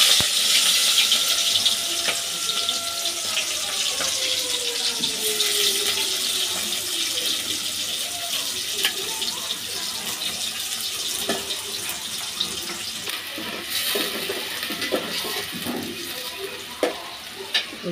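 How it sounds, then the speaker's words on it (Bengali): Chopped onion sizzling in soybean oil, a continuous close hiss and crackle that runs throughout, with occasional stirring clatter and no speech. "এর মধ্যে দিয়ে দেবো পেঁয়াজ কুচি"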